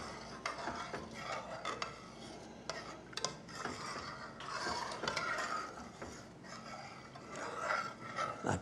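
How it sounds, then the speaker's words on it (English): Honey-based tare sauce for yakitori is stirred in a pot over low heat, a spoon scraping and clinking against the metal in irregular strokes, close and fairly quiet. "Got to stir this to make it go just right."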